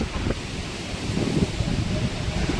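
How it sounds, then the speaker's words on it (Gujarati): Strong wind during a thunderstorm at an outdoor wedding gathering blows steadily, a dense rushing roar with buffeting against the microphone and no clear breaks. "ગાજવીજ સાથે આમ જો ખૂબ જોરથી પવન ચાલુ છે"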